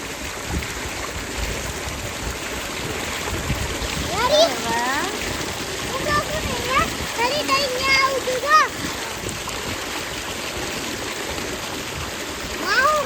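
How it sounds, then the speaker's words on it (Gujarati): Water runs steadily into an irrigation channel on a farm, a continuous splashing stream close by, with a voice and other people talking intermittently over it. "આ પાણી પીવે છે આમ ધોરિયામાં જાય છે"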